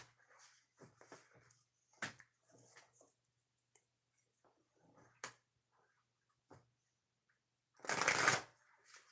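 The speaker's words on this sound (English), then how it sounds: "Three shuffles, Pisces." A deck of tarot cards is shuffled in short, soft, riffling bursts separated by quiet pauses, ending in one louder and longer close shuffle.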